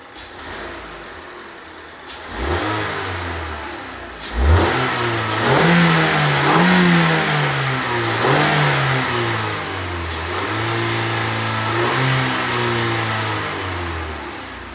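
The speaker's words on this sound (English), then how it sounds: "we're gonna turn the engine on, and we're gonna get a sound check." A Mazda 3 Skyactiv engine with its intake resonator deleted starts and revs repeatedly, rising and falling between idle and higher revs, loud and close, with no talking.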